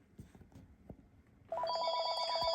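A Panasonic KX-TG6524 cordless phone begins ringing after soft handling noises, its electronic ring tone sounding loud and close in a steady, rapid warbling pattern.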